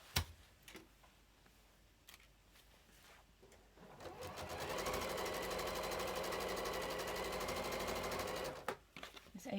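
A sewing machine stitching soft AGF fabric for a project bag, quiet handling and a few clicks at first, then a fast, steady mechanical whirr of stitching for about five seconds before stopping with clacks.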